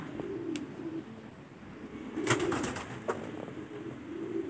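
Pigeons coo softly while drinking, with a few brief chirps and soft low cooing swells in a quiet outdoor setting; the birds are being offered a water mix of oregano, moringa and garlic.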